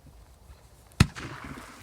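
TXB203 Koneser firework launcher fires a single sharp, loud bang outdoors in cold weather, followed by a brief fizzing trail, against a quiet background.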